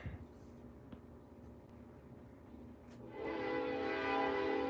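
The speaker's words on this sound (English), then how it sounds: "Oh, got the train." Faint, distant train horn sounds while a passing train builds from a quiet background into a louder, continuous rumble during the second half.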